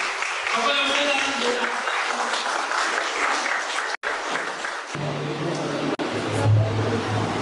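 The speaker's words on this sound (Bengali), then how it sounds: "let's give a big hands and welcome her" An audience at a Christian gathering claps to welcome someone speaker to the front, with full, dense applause for about four seconds, then a quieter stretch where voices carry over the fading crowd noise.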